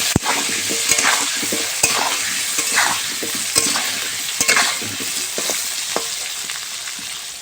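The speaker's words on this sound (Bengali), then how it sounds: "আলুটাকে একটু লাল লাল করে ভেজে নেব।" Potatoes fry in oil in a pan with a steady close sizzle, broken by sharp scraping knocks as they are stirred every second or so.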